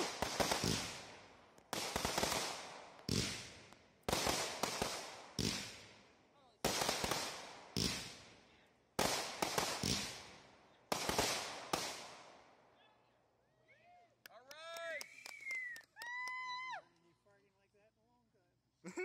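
Canada Day fireworks go off in a rapid series of loud sharp bursts with crackling decays, then whistling rising shells and distant pops as the display tapers off.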